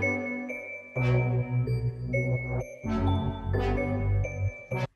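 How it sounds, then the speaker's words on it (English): A deep bass line enters during the breakdown of a poppy EDM track, with heavy low pulses under bright plucked synth notes, sustained and loud with no talk. "And then we do bring in the bass line."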